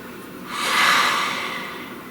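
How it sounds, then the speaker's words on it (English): A single slow, deep breath drawn in and let out near the microphone, swelling to a soft airy peak before fading in a quiet room. "please take a nice deep breath"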